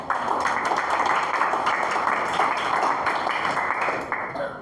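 A church congregation applauding, a steady wash of many hands clapping that holds at full strength for several seconds and then fades away.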